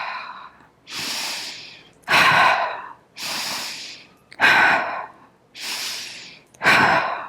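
Slow, deliberate breaths in and out through the mouth accompany yoga shoulder lifts, with about six loud, close breathing sounds alternating in an even rhythm and no talk between them.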